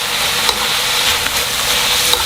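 A fish cake stir-fry being stirred in a pan, with a continuous loud sizzle and a few light scrapes and taps from the utensil, close and without speech.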